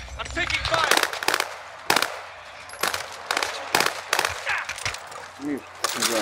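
Automatic gunfire in a Rebirth Island video game match, loud rapid bursts repeating throughout, with players talking over the shooting.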